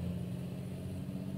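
Volvo truck engine in American Truck Simulator, a steady low drone running at an even pitch with no revving, continuous and fairly loud throughout.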